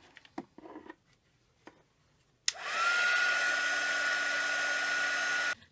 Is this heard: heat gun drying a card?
yes